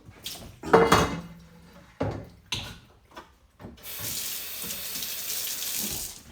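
Water runs steadily from a kitchen tap while a cast iron pan is washed, with a few clunks and scrubbing sounds before the flow settles into a constant close hiss.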